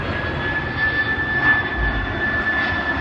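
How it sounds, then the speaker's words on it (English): A UPS cargo plane passes low overhead on approach to landing, its jet engines roaring steadily with a high whining tone over an outdoor industrial area near a river, no voices over it. "Oh, that's a UPS plane."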